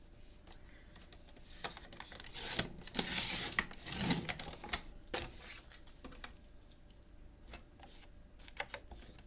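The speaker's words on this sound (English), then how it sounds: "So I'm going to have to trim this one again." A notecard is trimmed with short scraping and rasping strokes, some quick and some longer, and a denser stretch of cutting in the middle, close and fairly quiet.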